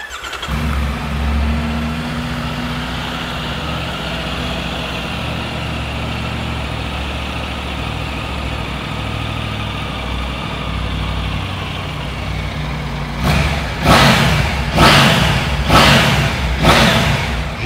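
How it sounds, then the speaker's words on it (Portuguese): A Triumph Tiger 900 three-cylinder motorcycle engine fires up and settles into a close, steady idle, then gets five sharp throttle blips near the end, each rev climbing quickly and dropping back. "Vou estar tá fazendo agora o acionamento das máquinas para a gente ouvir o ronco do motor."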